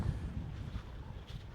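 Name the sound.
wind blowing at a coastal lookout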